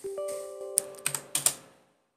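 A computer keyboard gives a short run of crisp keystroke clicks, close and distinct, the last few taps coming in a quick burst before the sound fades to silence.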